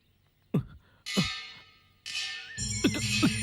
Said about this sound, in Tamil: கத்தி சண்டை நடக்கிற மாதிரி சத்தம் கேக்குது.